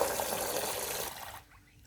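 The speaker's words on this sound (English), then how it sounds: "and we're just going to top it up with water." Water pours steadily from a container over chicken feed grains being topped up for fermenting, a continuous splashing gush that stops abruptly near the end.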